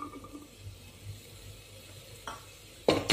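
Tomatoes and peas are stirred in a pan for veg pulao, with a soft low sizzle and a couple of scraping spoon strokes near the end.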